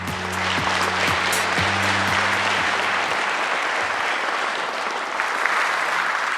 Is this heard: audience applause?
yes